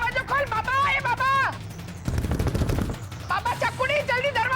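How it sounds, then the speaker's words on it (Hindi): A loud, sudden blast with a burst of crackling noise lasting about a second, set in a Hindi TV drama, with people talking before and after it. "इतना बड़ा धमाका सुना मैंने"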